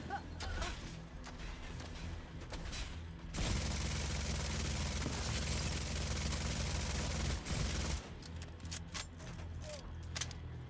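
Big Al light machine gun firing in The Division 2, a sustained burst of rapid automatic fire lasting several seconds, loud and dense, framed by quieter game noise before and after.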